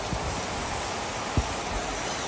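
A downpour of heavy rain hisses steadily, with scattered drops and one sharper splat standing out against the constant wash of water.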